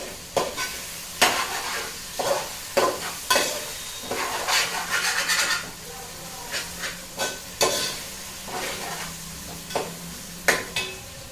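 Cashews and curry leaves frying in oil for a prawn biryani. A steady sizzle runs throughout, broken by repeated sharp scrapes and clinks of a spoon stirring against the pan.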